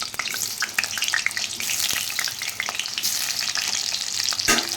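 Potatoes fry in hot oil with a loud, close, continuous sizzle full of crackles and pops, accompanied by occasional stirring scrapes.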